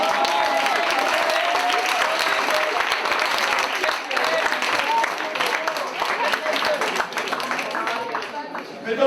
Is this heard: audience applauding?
yes